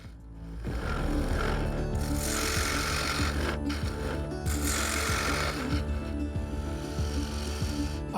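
African blackwood spinning on a wood lathe as a gouge roughs it round, a steady continuous whir with scraping cutting noise and a low motor drone throughout, fairly loud and alone.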